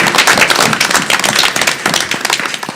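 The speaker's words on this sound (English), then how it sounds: "if everyone could give them a round of applause" A room applauds school meal staff at a board of education meeting in Sayreville, with a dense, loud, sustained burst of clapping from many hands.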